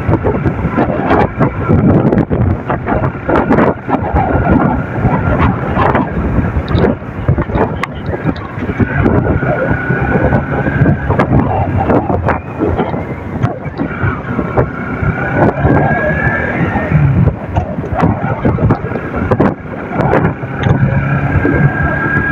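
Strong wind roars and buffets the microphone while riding a motorbike along a highway in Nepal, a loud continuous rumble with gusty fluctuations and faint engine hum underneath.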